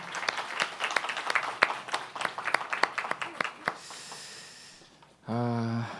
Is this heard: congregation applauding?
yes